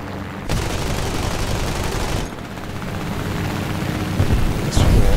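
Sustained gunfire from an M.S.410 aircraft dogfight in War Thunder air arcade, a dense rumbling stream of shots that swells louder near the end, with no talking.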